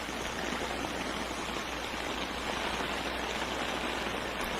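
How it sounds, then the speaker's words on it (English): Flood water rushing in a steady, dense roar, loud and unbroken throughout with no voices. "So you see the running water,"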